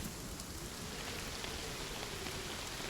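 Steady evening rain in the video game Love and Deepspace, a dense, even hiss of drops falling on surfaces that fills the whole stretch without pauses or voices.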